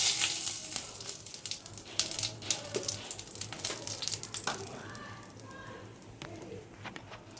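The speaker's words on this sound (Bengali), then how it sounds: "তেলের মধ্যে আমি গোটা জিরে দিয়ে দিচ্ছি, তেজপাতা দিয়ে দিচ্ছি।" Whole cumin seeds and bay leaves sizzle in hot oil, a close crackling hiss with sharp spits that gradually settles, while a pigeon coos in the background.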